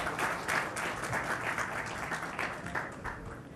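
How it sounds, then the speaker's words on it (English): Delegates at an education conference give sustained applause, a dense, lively clapping with some hand claps standing out, continuing at a steady level throughout. "Everyone, let's give him a warm round of applause."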